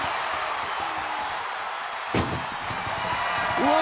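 An ambulance door slams shut in the WWE 2K25 wrestling video game: one sharp, heavy bang partway through, over a constant wash of arena crowd noise.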